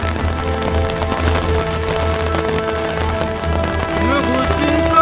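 Heavy, non-stop rain pours down steadily in a dense, loud wash that fills the whole scene, with a voice faintly mixed underneath.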